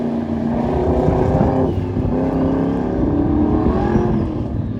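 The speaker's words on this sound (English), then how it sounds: "You can hear the turbo spooling." A turbocharged Daytona kit car at an autocross event drones steadily and loudly, its engine note rising and shifting with a continuous whooshing turbo spool over the top, no voices.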